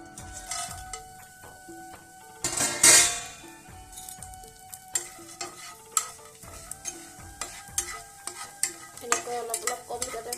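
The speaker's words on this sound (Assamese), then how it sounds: "প্ৰথমতে মই খলাখন গৰম হৈ অলপ তেল দি তাতে মই শুকান মাছখিনি ভাজি ল'ম" Dried fish frying in a little oil in a hot pan gives a soft, steady sizzle, broken by frequent stirring scrapes and a loud clatter of utensils against the pan early on.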